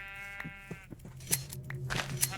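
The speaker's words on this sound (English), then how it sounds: "That is a lot of sheep." Minecraft sheep bleat several times in a short burst, close and fairly loud, layered with crunchy game footsteps and ambient sounds.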